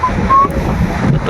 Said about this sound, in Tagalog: nag-kusog-kusog mo ang hangin ba?